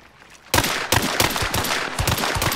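Gunfire in the video game Hunt: Showdown, a burst of sharp repeated shots starting abruptly after a quiet moment, loud and close, with several rapid reports and a reverberant tail.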